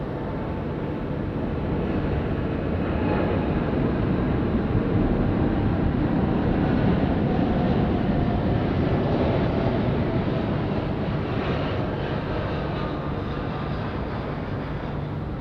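A Qantas airliner taking off from Sydney Airport bound for Haneda at night: a loud, steady engine roar that swells gradually and then holds, with no talk.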